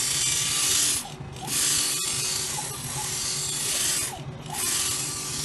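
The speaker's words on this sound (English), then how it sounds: "Let me explain why this grinding machine can remove deep" A phone LCD touch-screen scratch repair grinding machine runs steadily with a whirring, ratcheting mechanical drone, swelling twice as the pad sweeps across, with a sharp click near the middle and no talk.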